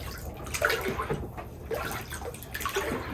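Lye solution sloshing in a rusty container as it is rocked back and forth, producing irregular watery swishes and splashes with steady liquid movement throughout, fairly close.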